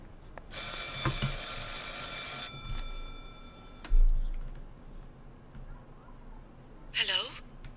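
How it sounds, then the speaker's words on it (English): A telephone rings in the video game Martha is Dead, a bright electric bell trill lasting a couple of seconds, followed by quieter footsteps and ambient noise, with a short chirping sound near the end. "Let's go back upstairs and answer the phone."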